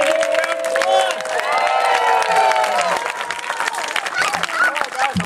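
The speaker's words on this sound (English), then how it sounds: "Please, everybody, give him a round of applause." An audience at a 2008 Champoeg gong show claps and cheers, with whoops and excited voices rising over the applause before it thins out.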